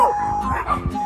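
Several dogs at a dog kindergarten yip and whimper in short bursts, close and loud, with an excited voice speaking over them.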